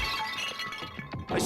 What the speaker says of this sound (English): I grabbed the Monokuma bottle from the shelf and smashed it across her head.